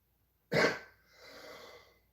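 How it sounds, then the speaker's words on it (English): A single harsh cough bursts out, followed by a breathy, rasping exhale that trails off over the next second or so, close and fairly loud, with nothing else around it. "so you're coughing your lungs out"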